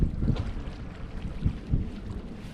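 Gusty wind buffets the microphone outdoors, a steady low rumble with a few stronger thumping gusts.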